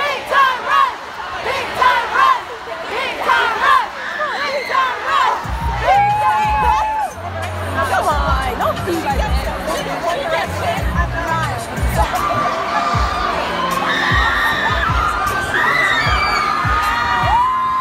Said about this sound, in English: I heard they're screaming.